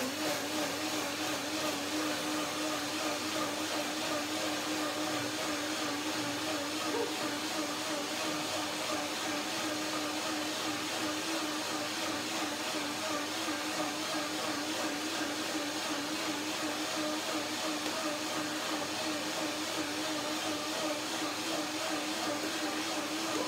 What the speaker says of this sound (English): So this is the first blending. That means breaking down the cashews mainly.